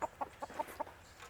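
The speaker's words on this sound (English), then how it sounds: "Well, evidently I got chickens like some people have flies." Backyard chickens cluck in a quick run of about five short rhythmic calls, fairly close and faint over a low background hum.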